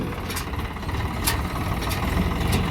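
A tractor engine approaching at a work site where soil is being filled, a steady low rumble with a broadband drone throughout, fairly distant and without talk.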